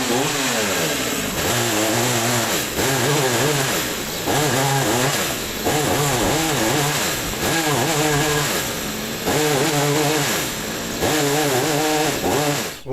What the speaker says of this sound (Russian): Режем бревна на дрова.